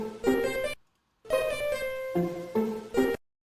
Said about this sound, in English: Here is the sound of pizzicato.